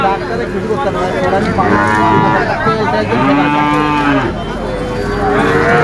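A Friesian cow moos loudly and close by at a cattle sale, drawn-out low calls repeated, with people talking nearby.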